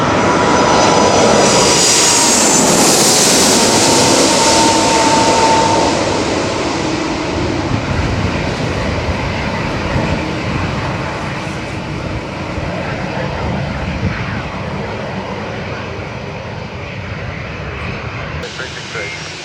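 Jet airliner taking off or landing at Songshan airport in Taipei amid urban smog, a loud roaring engine that swells early then slowly fades into a lingering distant rumble, with radio-style talk faintly present.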